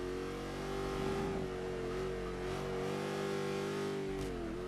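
A tuned Chevy Nova in Forza Motorsport 5 on the Indianapolis GP circuit, its engine holding a steady, buzzy tone, then briefly blipping and dipping in pitch as it drops into second gear near the end.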